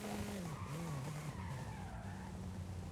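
A game car loses grip on a slippery track, its tyres skidding and squealing in a continuous wavering whine over a steady engine drone.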